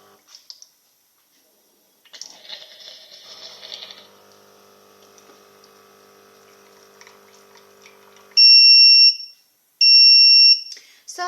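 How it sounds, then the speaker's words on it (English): Tommee Tippee Perfect Prep bottle machine gives a loud, clear double beep, two sustained electronic tones near the end, after quieter pumping and running water from the machine. "it does a double beep, but the light still shows red"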